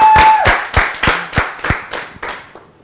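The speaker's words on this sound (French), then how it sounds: "Mesdames, messieurs, tenants d'applaudissements pour Emery" At an African stand-up comedy show, an audience claps in unison, with about eight sharp, evenly spaced claps in a quick rhythm. Each clap rings out briefly and the series grows gradually softer toward the end.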